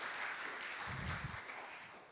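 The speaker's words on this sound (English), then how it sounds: "Let's give Staff Congregation Relations Committee a round of applause." Faint, distant congregation applause in a church meeting hall, a soft wash of clapping that swells briefly and tapers off toward the end.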